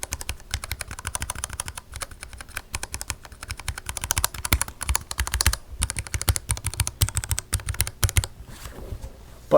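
Fast, continuous typing on unlubed mechanical keyboard switches, dense rattling keystrokes close up for nearly ten seconds with brief pauses, no voices.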